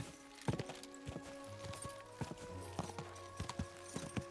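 A horse's hooves clip-clop at a quick, uneven trot in the medieval role-playing game Kingdom Come: Deliverance II, with sharp individual strikes, quiet and close, over a low ambient game backdrop.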